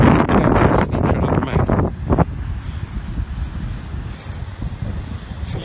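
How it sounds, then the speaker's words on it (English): Wind blowing hard across a coastal headland during whale season, a steady roaring rush over the microphone with possible surf beneath, louder gusts early that settle into a constant blustery drone. "A little bit windy."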